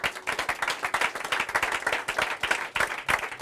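A church congregation applauds the word of God, dense rhythmic hand clapping from a crowd, steady and close throughout.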